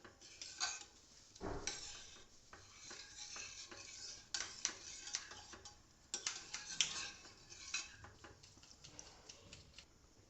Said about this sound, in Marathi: त्यानंतर त्यात दोन वाटी दूध घातलेलं आहे मिश्रण छान डवळून घ्यायचं आहे